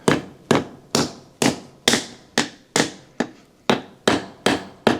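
Repeated hammer blows drive a wooden wedge into the top of a large ball peen hammer handle packed with epoxy, about eleven sharp, evenly spaced strikes ringing close and loud with short decays, no talking.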